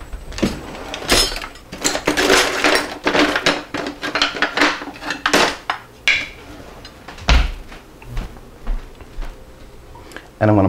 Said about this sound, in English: I'm going to get a wooden spoon.